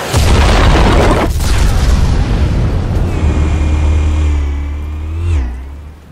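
Explosives detonate in a Batman game scene with a loud, close boom and heavy rumble. The blast fades into a long roar with a rising engine-like whine that ends in a swoop.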